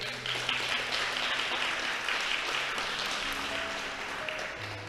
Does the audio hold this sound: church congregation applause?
yes